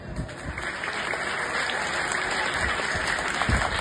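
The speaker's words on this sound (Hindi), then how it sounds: "आप अपनी पढ़ाई के लिए तालियां बजाएं।" Schoolchildren clapping at an Independence Day school event in Farwai, a fairly faint, steady patter of applause under a high whine and background noise.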